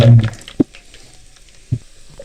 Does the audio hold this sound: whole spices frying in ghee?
yes